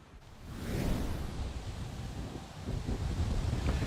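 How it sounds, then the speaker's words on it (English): Strong wind at Bayfront Park buffets the microphone in a steady, loud roar with gusty rises, with no voices present. "it certainly is windy here at Bayfront Park"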